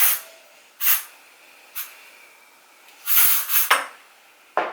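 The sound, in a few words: hairspray being sprayed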